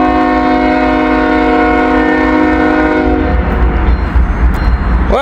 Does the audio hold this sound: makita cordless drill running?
no